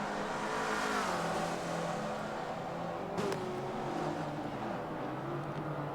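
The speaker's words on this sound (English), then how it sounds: "I like to go ahead and just let the sound of the cars." Race cars in the Forza racing game, several engines droning and revving together at a steady roar with pitch shifts as they run side by side on a hilly circuit, no talking.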